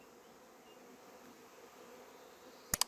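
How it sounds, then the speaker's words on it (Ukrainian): Steady low insect buzzing from honeybees in flight, ending with two sharp clicks close by. "бджоли літають"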